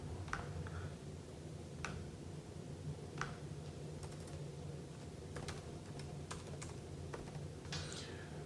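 Typing on a computer keyboard, with sparse, quiet key clicks coming in short irregular bursts over a low steady background hum, close up and with no talk.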